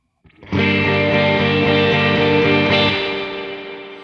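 A distorted electric guitar played through a Kemper Profiler, one sustained chord ringing loud and close for a couple of seconds, then a reverb tail that swells as the notes stop and slowly fades.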